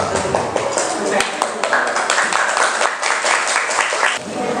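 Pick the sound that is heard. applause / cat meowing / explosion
applause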